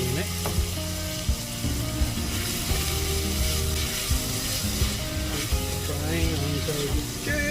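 Food sizzles steadily in a camp pan with soy seasoning, a dense continuous crackle and hiss that stays close and fairly loud, with occasional clinks and a stir.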